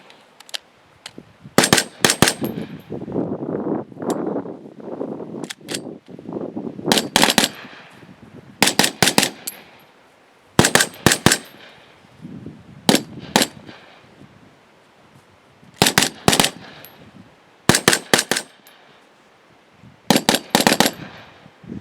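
Machine gun fire from light support weapons on a firing range, heard as loud, sharp bursts of several rapid shots each, repeating at intervals with brief pauses and echoing range noise between bursts; no talking.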